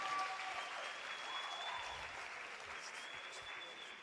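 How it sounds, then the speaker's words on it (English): An audience applauds steadily for several seconds, a dense wash of clapping with a faint tone running through it. "let's chow a round of applause for the Pantsola."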